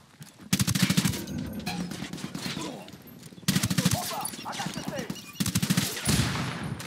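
Bursts of automatic gunfire from a squad firefight in Ghost Recon Wildlands: three loud, dense volleys of rapid shots, each cut off sharply, with a low rumbling bed between them.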